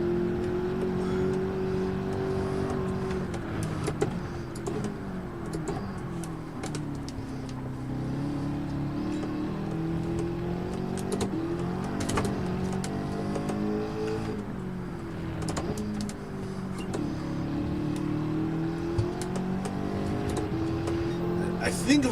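A race car engine in Gran Turismo 7 drones and revs steadily, its pitch rising and falling through gear changes over a long stretch, with a voice talking over it.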